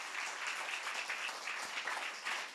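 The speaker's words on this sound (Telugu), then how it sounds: "గట్టిగా చప్పట్లు కొట్టండి." A church congregation claps together, a dense, even patter of many hands sustained for a couple of seconds, moderately quiet and heard from some distance.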